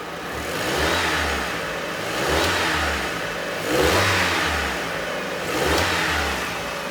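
A car engine revs up four times in a slow, steady pattern, rising and settling back toward idle between each push, loud and close with no voices.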